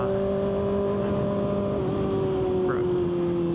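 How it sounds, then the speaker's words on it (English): A 2025 Kawasaki ZX6R KRT edition with an SC Project slip-on exhaust holds a steady engine drone at cruising speed, heard close and loud through heavy wind rush with no clear revving. "the bike sounds so good"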